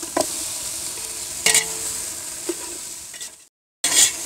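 Chicken pieces frying in hot oil in a pot with red chilli powder, stirred with a spoon, giving a steady sizzle broken by a few sharp scraping stirs and a brief pause near the end.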